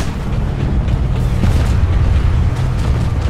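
A generator blowing up in the video game Planetside 2, a loud, sustained rumbling boom with heavy low-end roar that fills the whole stretch without a break.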